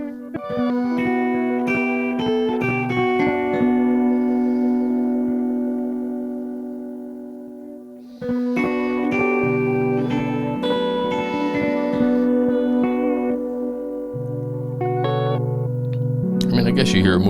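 Sustained guitar tones run through Empress Zoia and Chase Bliss Mood effects pedals, layered chords that drift and pan across the stereo field with echoing repeats, a fade near the middle and a brief gap before the sound resumes.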